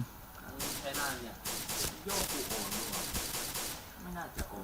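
Gunfire in the online shooter game PointBlank comes as several rapid automatic bursts separated by short gaps, loud and close, with a voice talking faintly in places.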